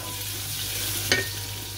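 Water being stirred into melted butter in a pan gives a soft, steady sizzling hiss, with one brief scraping tap of the utensil midway.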